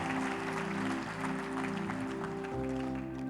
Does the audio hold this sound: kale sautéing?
no